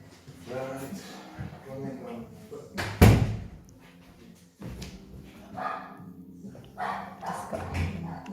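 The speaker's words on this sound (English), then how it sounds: "I just need to bring Beau out because he's barking" Beau, a dog indoors, barks a few times, with a sharp loud burst around the middle like a door slamming. Whimpering and a person's speech run between the barks.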